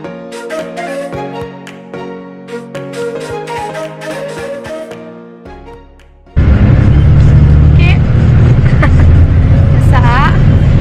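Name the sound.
bus engine and road noise from inside a bus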